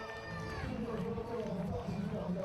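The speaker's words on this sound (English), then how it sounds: "You can hear the crowd." Crowd at a motocross race in Papendal, the Netherlands, cheering and shouting at a distance, rising and falling under a commentator's voice.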